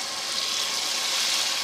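Chickpeas frying in ghee with spiced masala for chana pulao, a steady close hiss of sizzling oil with no voices, ending in a brief stir clatter.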